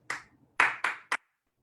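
Four sharp hand claps, close and loud: one, a pause, then two in quick succession and a softer short one, each ringing briefly in a quiet room before a faint tap at the end.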